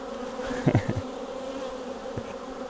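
Honey bees buzz close around a hive. A dense hum carries brief louder passes as individual bees zip near, with no voices.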